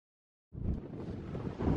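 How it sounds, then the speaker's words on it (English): Sudden gusty wind buffets the microphone at a viewpoint on the Appalachian Trail near Big Meadows after a brief silence, a loud, rough rumble that swells again toward the end. "Whoa, it's windy, but get a load of that view."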